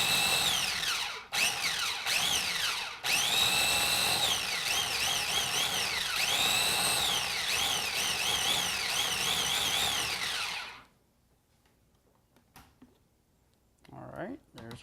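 A food processor whirs loudly as it blends broccoli pesto with lemon juice, a close motor whine that runs in several pulsed bursts for about ten seconds, then cuts out to near silence before a brief voice comes in at the end.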